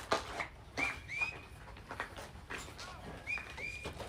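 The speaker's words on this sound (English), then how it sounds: "we got some whistling going on there" Short whistles ring out at a Skeeters baseball game in Palm Springs, a few quick rising and steady tones spaced over a few seconds, fairly faint against a quiet ballpark background.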